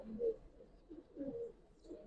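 A pair of Giribaz pigeons at a seller's loft gives soft, low cooing phrases, three or four rounded coos spaced across the moment, quiet and fairly close in a calm space.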